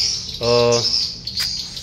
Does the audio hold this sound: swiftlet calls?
yes